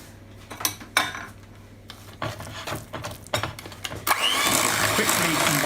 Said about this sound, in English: And then we'll get our whisk.